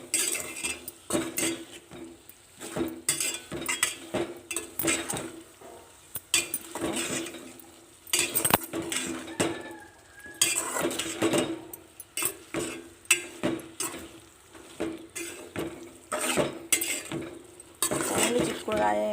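A spoon stirring and mixing a dried broad bean (chikkudukaya varugulu) curry in a metal pot, with repeated scraping clinks and clatters in uneven bursts, close by.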